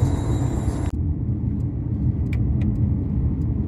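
Mercedes-Benz GLB 200 AMG with a 1.4-litre engine cruising at 100 km/h on an asphalt road, a steady loud low rumble of tyres and engine inside the cabin, with faint brief clicks above it.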